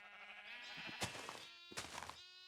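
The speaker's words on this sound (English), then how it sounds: "our sheep have been replaced with black sheep now" Black sheep in the Minecraft modpack FTB Interactions bleating twice in quick succession, clear and close with a wavering nasal tone against a quiet background.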